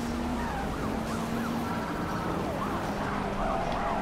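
A police siren wails steadily in a Need for Speed Rivals pursuit, its rising and falling tone sweeping repeatedly over a continuous engine and road roar, loud and close throughout.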